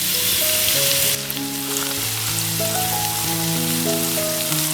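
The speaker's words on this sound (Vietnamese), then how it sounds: "Cho nốt số gốc hành và tỏi băm còn lại vào phi thơm." Scallions and minced garlic fry in garlic oil in a pan for fried rice, giving a steady, close sizzle under background music.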